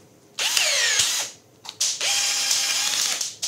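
Handheld power drill fitted with an added metal bracket for one-handed use, building wind turbine vanes: two sustained high-pitched whirring runs with a spin-down between, close and loud, with no talk.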